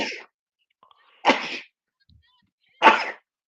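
Three short, forceful sneezes burst out at a pro wrestling event, spaced about a second and a half apart, close and loud with silence between them.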